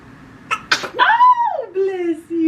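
One sharp, close sneeze bursts out early, followed right away by a person speaking in a rising and falling voice in a quiet room.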